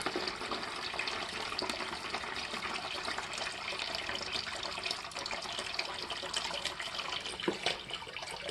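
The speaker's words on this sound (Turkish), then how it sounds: "Gördüğünüz gibi gelen su olduğu gibi çamurlu su peteğin dibinde kalan en pis su geliyor" Muddy water draining out of a household radiator during flushing, a faint continuous splashing and gushing flow into a container, steady throughout with no talking.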